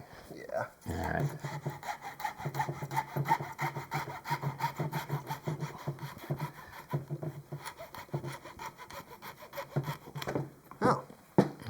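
Sawzall reciprocating saw cutting through metal on a 2022 4Runner during an air bag install, a steady rasping saw stroke that runs almost without a break for over ten seconds, at moderate level and close by.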